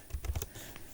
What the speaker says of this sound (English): So let's type this in.